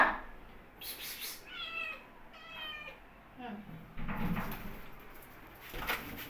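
A kitten meows in short thin cries, with pigeons cooing and chirping birds nearby, while people call out and talk over the animals outdoors.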